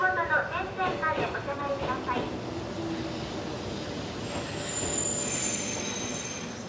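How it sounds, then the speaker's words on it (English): A train pulls into a rural platform in Japan, its wheels squealing and railcars rumbling at a moderate distance. A voice is heard over the first seconds, and a high metallic screech rises near the end. "a spotless train arrives at a spotless platform, spot on time."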